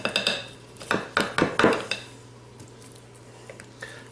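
A knife and server clatter against a dish while a slice of keto tomato and cheese pie is cut and lifted out, with a cluster of sharp metallic clinks and scrapes early, then quieter scattered taps.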